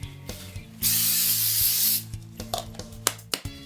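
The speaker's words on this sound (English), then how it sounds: "take some spray adhesive, put it right down on the platen" Spray adhesive hisses from an aerosol can onto a screenprinting platen in one loud, steady burst of just over a second, followed by scattered light clicks and handling noises.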